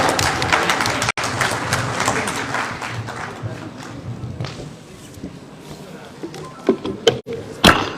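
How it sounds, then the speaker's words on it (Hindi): A crowd at a homeopathy awards ceremony in Uttar Pradesh claps steadily and loudly, with scattered sharp claps standing out near the end. "जोरदार ताली।"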